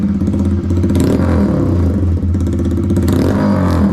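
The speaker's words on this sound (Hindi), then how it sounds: "ये शॉर्टगन साइलेंसर है, और आप लोग देख सकते हो इसका साउंड" TVS Raider 125cc motorcycle fitted with a shotgun exhaust silencer revs loudly close by, a rough, throbbing engine note with crackling bursts as the throttle rises and falls.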